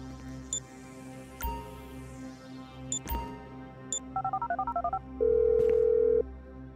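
A telephone call is dialed in the video game GTA V: a quick run of evenly spaced keypad tones, then a single steady ringing tone, heard over a low in-game background hum.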